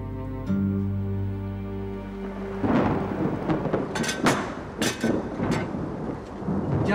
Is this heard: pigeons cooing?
no